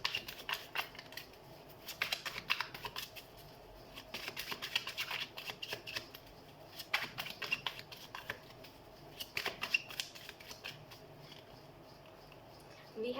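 Tarot cards being shuffled and handled in a quiet room, a soft papery riffling and flicking that comes in repeated bursts over a low background hiss, with no talking.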